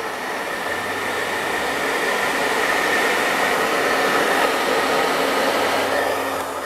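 A hair dryer blows with a steady, close whooshing roar that swells slightly in the middle and runs without pause.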